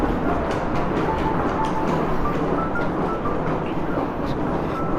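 A steady, even rumble fills the cabin during a Shinkansen ride in Japan, a smooth continuous hum that stays constant with no distinct clacks.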